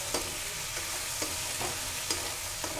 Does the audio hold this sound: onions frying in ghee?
yes